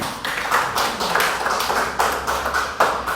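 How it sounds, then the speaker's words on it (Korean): A congregation at a Wednesday worship service claps together in a steady, rhythmic beat, loud and close, sustained throughout with no speech on top. "하나님께 영광의 박수로."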